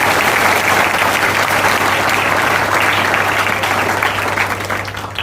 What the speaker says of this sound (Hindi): और जोर से ताली बजा।